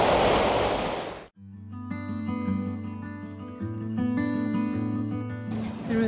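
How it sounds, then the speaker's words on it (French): Ocean surf at Uluwatu, Bali, a loud rushing wash of waves that cuts off abruptly, gives way to a sustained tonal passage, and returns briefly at the end. "Vous entendez l'océan ?"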